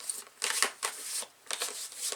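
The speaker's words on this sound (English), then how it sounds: "I'm going to shuffle up the player boards" Cardboard player boards for the Alien: Fate of the Nostromo board game are shuffled by hand on a table, giving several close, papery swishes and slides in quick bursts with short pauses between them.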